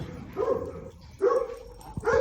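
Dogs bark in short loud bursts, three clear volleys spaced about a second apart, close by in a rescue or boarding setting, with some yips between them.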